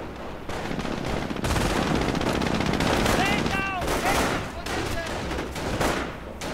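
MG42 machine gun fire in the WWII strategy game Company of Heroes, set up in a building, heard as continuous battle noise of rapid bursts and gunfire mixed with other combat sounds and faint unit voices.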